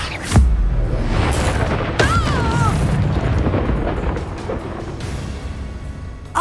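An explosive spell bursts in the video game Hogwarts Legacy with a deep, heavy boom. Crackling blasts follow, then a rumbling aftermath fades over several seconds.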